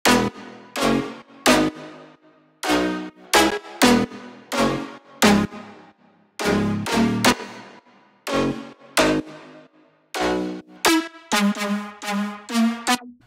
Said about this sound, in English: So the drop plucks sound like this.